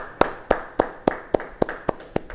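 A church congregation at a Bible study claps in unison, with about nine sharp, evenly spaced claps in a steady rhythm. The claps land as rhythmic, close group handclaps rather than scattered applause.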